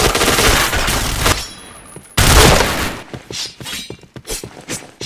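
Bursts of rapid automatic gunfire in a shooting video game, loud and dense for the first two seconds, then a second heavy volley followed by scattered individual shots and thuds.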